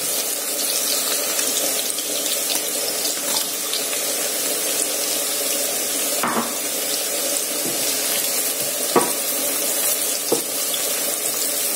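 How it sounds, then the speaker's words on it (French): Shallots, garlic and peppers sauté in a pan with a steady, close sizzle and a few sharp clicks and taps throughout, no voices. "j'ai donc mis les échalotes. Je laisse un peu revenir et après je vais ajouter l'ail"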